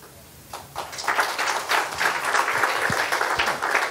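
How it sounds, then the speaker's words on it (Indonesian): Church congregation applause during an online worship service, a swell of clapping that builds after a quiet start and carries on steadily for a few seconds. "Tepuk tangannya kurang ikhlas."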